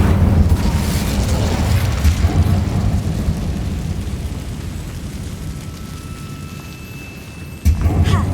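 Incendio fire spell cast inside a mine in Hogwarts Legacy, a loud whooshing fiery blast with a deep rumble that slowly fades, then a sharp new burst near the end.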